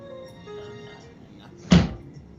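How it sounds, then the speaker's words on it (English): A window being shut in a tabletop role-playing game session, a single short thump near the end over a quiet room background. "And that is the sound of Geist closing a window."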